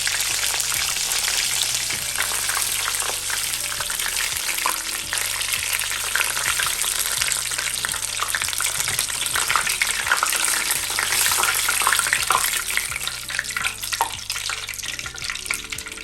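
Tuna fish samosas fry in hot oil, a dense, steady sizzle with crackling bubbles that keeps going loudly and evenly throughout, with no talking.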